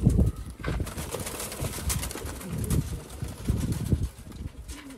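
Pigeons on a Sialkot rooftop coo in repeated low, throaty bursts, close by, mixed with rustling and some background noise.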